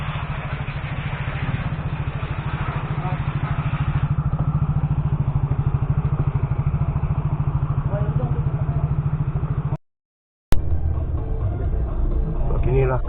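A motorcycle engine idles close by in Pekan Bekenu town, a rapid, throbbing low rumble, briefly cutting out before resuming; people speak over it.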